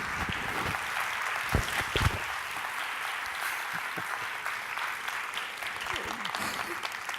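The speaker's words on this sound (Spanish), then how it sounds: "Un aplauso" An audience at a university lecture by a priest breaks into sustained applause, a dense continuous clapping that stays steady for several seconds with a few sharper claps standing out near the start.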